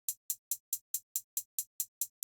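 Crisp, bright hi-hat hits tick in a fast, even run of about ten short strokes inside a bass music production, close and alone with only a touch of reverb.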